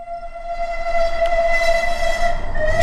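A train whistle sounds as an effect in a spoken story, a long sustained steady tone over a low rumble, loud and close, with no voices.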